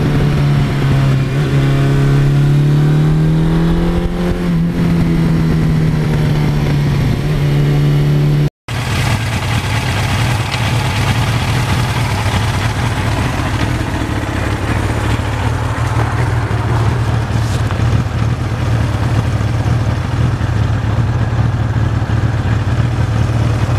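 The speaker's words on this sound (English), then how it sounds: "this is a heavy motorcycle" A heavy Suzuki GS1100E motorcycle engine drones steadily while riding on back roads, loud and close, its pitch rising and settling briefly before holding a constant rumble with wind noise.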